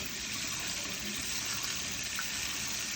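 Chickpeas drained from a can are rinsed under a running kitchen tap, a steady, close gush of water pouring continuously for a few seconds with no talking.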